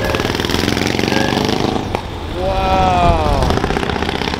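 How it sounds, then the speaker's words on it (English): A Ferrari 308 and a dune buggy drive past, their engines rumbling loud and close with a rough, pulsing note that dips briefly and then swells again as the revs climb and fall. "Ferrari 308 and the Dune Buggy"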